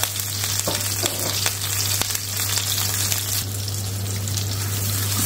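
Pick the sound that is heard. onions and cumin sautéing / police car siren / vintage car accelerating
onions and cumin sautéing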